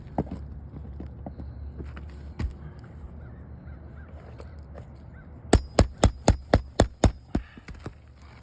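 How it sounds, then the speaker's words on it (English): A roof snake nail puller struck with a hammer to pull nails from roofing shingles, heard as a low background rumble and then a quick, even run of about eight sharp, close metallic taps. "we're going to start pulling these nails"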